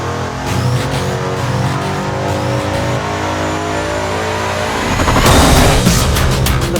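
A supercharged 5.8-liter Mustang engine revs hard under load on a dyno, a loud, dense, sustained roar that surges even louder near the end, with no voices.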